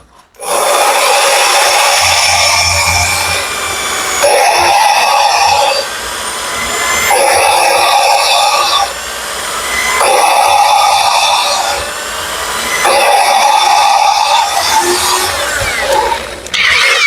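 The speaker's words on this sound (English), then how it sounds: "Attach the drill." Power drill spinning a valve against its seat in a cylinder head, a steady whirring grind in repeated bursts of about two seconds separated by short pauses.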